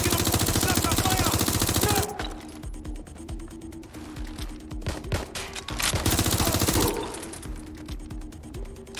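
Gunfire in the video game Watch Dogs: Legion, with a dense, loud fusillade at first, then scattered rapid shots and bursts over mechanical clatter and game sounds, swelling again before it fades.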